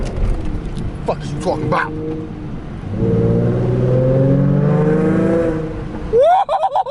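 A Ford Mustang's engine revs and drones from inside the car on a rainy drive, swelling into a sustained roar before a sharp rising rev at the end, while a voice talks over it.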